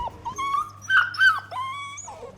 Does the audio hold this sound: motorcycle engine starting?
no